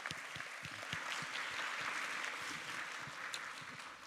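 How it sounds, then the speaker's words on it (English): An audience at a regional local governance symposium applauds its panelists, with steady clapping from a moderate crowd that holds even for several seconds and then begins to taper off. "let's give them all a round of applause"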